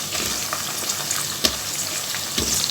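Potatoes tumble into a pan of browned onions frying in oil, giving a steady hissing sizzle with a few stirring knocks and splashes close by. No one speaks.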